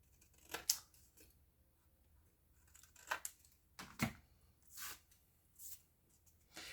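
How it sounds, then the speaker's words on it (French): Scissors snip small squares from the corners of a paper pocket for a scrapbook album page, a handful of short crisp cuts spaced irregularly over a few seconds, close and fairly quiet. "On va venir biseauter les angles comme on avait fait sur la précédente en coupant notre petit carré."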